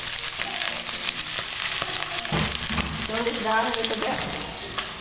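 Garlic and onion sauté in a hot pan with a constant bright sizzle, with stirring clatter partway through, while someone speaks briefly over it.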